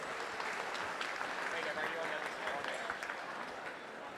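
A crowd at a sheep shearing competition, the Golden Shears open event, breaks into a sustained round of applause, dense clapping heard from a distance, fairly faint and fading slightly toward the end.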